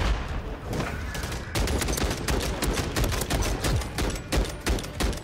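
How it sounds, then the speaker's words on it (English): Rapid automatic gunfire in a video game, with dense bursts of shots firing continuously and fast, loud and close, with no talking. "Yeah, rapid fire."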